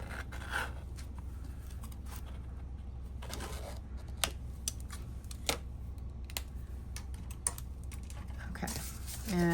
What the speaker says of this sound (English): I think I'm going to cut another piece of cardboard